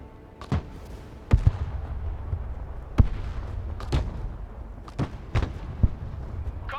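Counter-battery artillery fire in the video game Broken Arrow: about seven heavy booms land at uneven intervals over a steady rumbling battlefield background.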